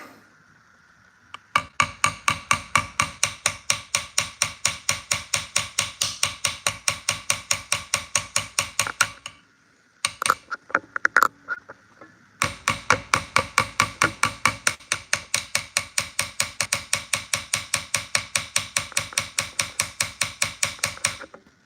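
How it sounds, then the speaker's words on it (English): Hand engraving on a Colt 1911 pistol slide, a hammer striking the engraving chisel in a fast, steady run of sharp metallic taps, close and loud, pausing briefly before resuming the same even rhythm. "you can get a better swing with the hammer and it's more power"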